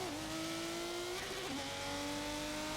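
A high-performance car in Forza 7 holds a steady engine drone that dips as it shifts down into first gear, then climbs again, heard alone at moderate level.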